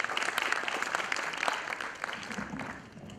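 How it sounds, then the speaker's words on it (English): An audience at an alumni conclave gives a round of applause, a dense steady clatter of many hands that tapers slightly toward the end. "Ladies and gentlemen, a round of applause."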